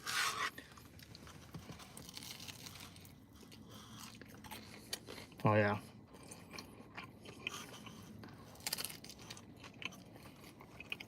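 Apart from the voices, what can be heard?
biting and chewing crunchy gas station pizza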